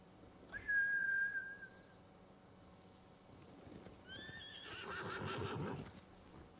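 A horse whinnies with a high, drawn-out call, followed later by a second shakier neigh, moderately near against a quiet background, in the video game Ghost of Tsushima.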